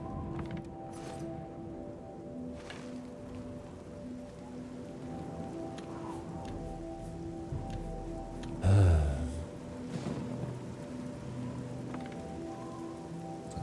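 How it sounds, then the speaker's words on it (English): Rain from stormy weather in the video game Oblivion, a soft continuous patter with a low tonal game background and a brief louder gust near the middle. "just like that, it's dark and rainy and stormy."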